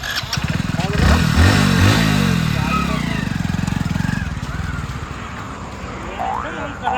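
A motorcycle engine starts and runs near, rough and loud with a few revs, while people talk over it throughout.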